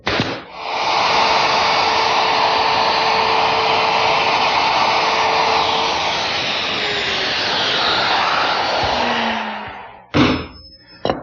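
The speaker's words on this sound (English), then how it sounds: "using my router, which has a bearing at the top of the bit" A handheld router fitted with a top-bearing bit mortises wood, following a template fastened under a wooden table top: a loud, steady high whine holding for about ten seconds, slightly shifting in pitch as it cuts, then stopping abruptly.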